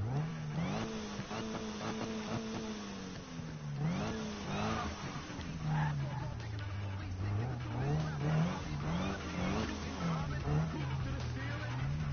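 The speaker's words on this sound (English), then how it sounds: "Oh, listen to that supercharger." A supercharged car in Need for Speed revs and accelerates, its engine tone rising and falling in repeated sweeps with a whining edge, steady and prominent under occasional talk.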